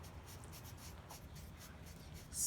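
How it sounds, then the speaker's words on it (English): A pen drawing a flower on a handmade Mother's Day card, heard as faint, close scratching strokes in short repeated bursts against a quiet background. "So I'm going to draw this last flower"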